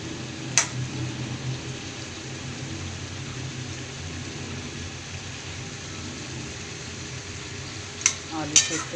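Potatoes simmer in a pot under a low, steady bubbling hum, with a spoon clinking against the rim once early on and twice in quick succession near the end.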